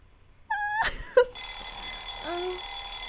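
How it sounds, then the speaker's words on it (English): Loud electronic alarm clock ringing in a visual novel game, a series of repeated high chirping tones that cut off abruptly, followed by a softer thud and a steady background ambience. "I groped around for the clock and turned off the loud alarm."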